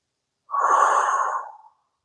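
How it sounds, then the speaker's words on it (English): A single deep breath is drawn during a yoga-inspired calisthenics session, one close, airy exhalation lasting just over a second, alone with no talk. "Let's take a few rounds of breath here."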